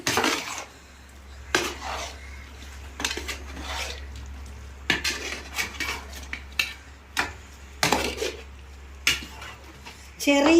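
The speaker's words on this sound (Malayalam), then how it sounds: "അപ്പം നമുക്കത് നല്ലപോലെ ഒന്ന് ഇളക്കി" Fried chicken is stirred into boiling masala in a pot, with a metal spoon clinking and scraping against the pot in irregular bursts over a steady low bubbling hum.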